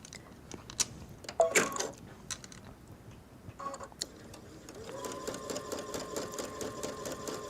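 A sewing machine stitches lace onto tulle in short stop-start bursts of rapid ticking, then settles into one longer steady run of close mechanical stitching with a faint hum.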